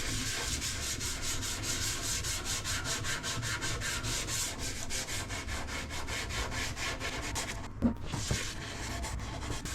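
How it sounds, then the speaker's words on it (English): Scotch-Brite pad rubbing Otis oil into a large restored wooden piece, a steady close scrubbing sound in rhythmic back-and-forth strokes with a small knock near the end, no voices. "I'm going to seal the whole piece with Otis oil. I'll apply it using a Scotch-Brite pad."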